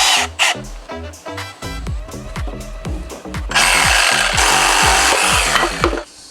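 A power tool drives screws into wood. A steady whining motor pulses with repeated bursts, then turns into a louder, rougher grinding near the end. The sound is close and loud, with no talk.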